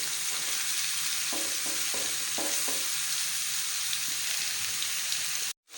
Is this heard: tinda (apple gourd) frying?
yes